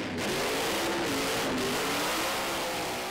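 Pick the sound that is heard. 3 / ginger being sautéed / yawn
3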